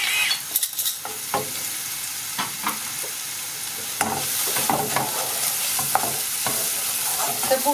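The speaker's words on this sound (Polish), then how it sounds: "Cebulka już nam się troszeczkę zeszkliła, odrobinę podrumieniła." Onions sizzling in a frying pan, stirred repeatedly with scraping strokes over a steady crackling fry, close and moderately loud with no talking.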